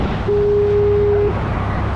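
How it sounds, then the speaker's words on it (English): A single steady low lighthouse foghorn blast on the Maine coast sounds for about a second over constant wind and surf noise. "You can hear it's foghorn right now."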